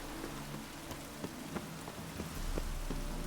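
Steady rain falls in The Witcher 3 video game, a constant hiss with scattered sharper drip ticks, growing slightly heavier toward the end, with no voices.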